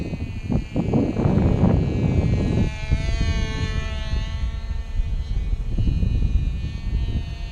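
A 1/2A Herr Cloud Ranger flat-bottom-wing model plane with an 061 glow engine flies past, its thin high buzz loud at first, then easing as the throttle backs off and the plane drifts in a crosswind.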